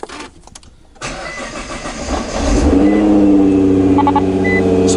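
A Nissan GT-R with a known fault cranks and fires up after about a second of near silence, settling into a loud, steady idle that swells in intensity partway through, with a few short electronic chimes near the end.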